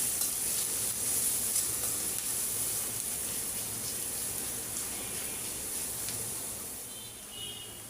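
Onions sizzle steadily in a frying pan while a utensil stirs them, a constant bright hiss close by with soft scraping, cooked after eggs in a Bengali egg bhuna dish.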